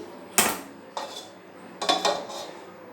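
A metal cooking pan is set down on a kitchen stove, giving a few sharp clanks and clattering knocks close by, with no talking.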